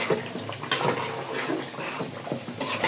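Spoon scraping and stirring a curry of new potatoes and garlic in a cooking pot on the stove, a soft continuous clatter and scrape, close by, with no talk.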